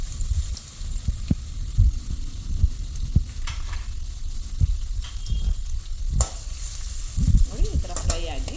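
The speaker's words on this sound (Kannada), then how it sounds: "ಈರುಳ್ಳಿನ ಫ್ರೈ ಮಾಡೋಣ." Two onions cut lengthwise fry in hot oil for a spicy pepper chicken, giving a steady low sizzle with repeated spoon-stirring knocks and scrapes scattered throughout.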